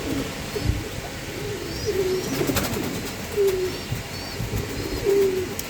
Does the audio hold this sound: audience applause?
no